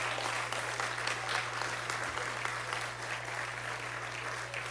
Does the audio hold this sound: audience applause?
yes